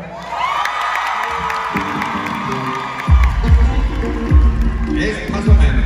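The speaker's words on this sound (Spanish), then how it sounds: "Aplausos para este coro." A concert crowd cheers and claps for a choir, a dense roar of shouts, whoops and applause that grows louder and choppier partway through, with voices mixed in.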